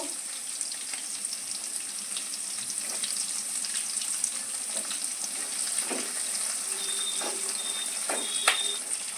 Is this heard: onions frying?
yes